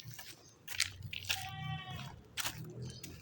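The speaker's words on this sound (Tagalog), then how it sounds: "Ay, yung mga kambing." Goats bleat near a newly built house, several wavering cries rising over faint background rustle and a voice calling out.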